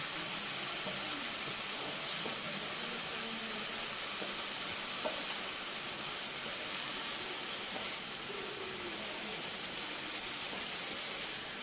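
Green chillies frying in oil in a pan, a steady, even hiss and sizzle that carries on without a break, close and moderately loud.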